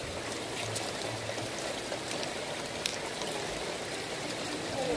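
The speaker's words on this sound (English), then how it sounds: "Rain going South Florida." Steady rain falls in South Florida, a dense, even hiss of drops on surfaces with faint patters, heard close and constant throughout.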